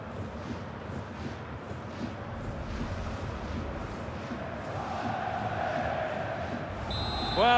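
A stadium crowd in the video game FIFA 21, during a Bundesliga match between FC Köln and Holstein Kiel, gives a dense, steady roar that swells louder toward the end and is topped by a brief whistle-like tone.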